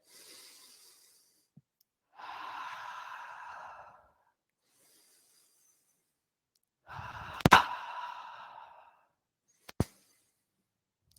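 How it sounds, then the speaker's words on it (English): Deep breathing held during a yoga bridge pose in a power vinyasa class: a few slow, audible breaths, exhales, and a short sharp snort, separated by quiet gaps and heard alone. "Take 3 more breaths right here."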